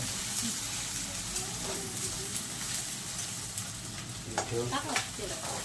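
Green chillies and other ingredients sizzle steadily in a hot pan while a spoon stirs them, with scraping strokes rising near the end and faint speech in the background.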